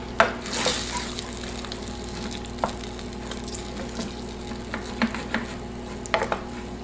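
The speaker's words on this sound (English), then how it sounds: "The remaining barbecue sauce is going to be used for the ribs. And then just let that simmer." Baked beans in barbecue sauce simmer in a pot, giving a low bubbling hiss with scattered soft pops and occasional light clinks, fairly quiet and steady.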